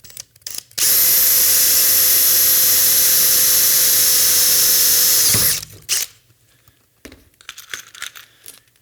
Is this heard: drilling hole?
yes